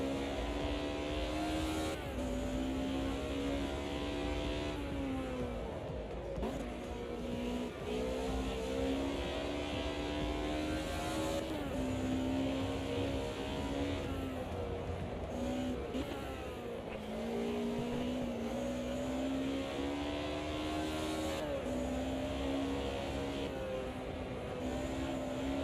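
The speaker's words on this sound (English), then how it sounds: "I don't know whether you can hear that tyre scrub sound." BMW race car lapping Donington in a racing video game, steady engine drone with shifting revs as it slides through corners, tyres scrubbing underneath, continuous and fairly quiet with no talk.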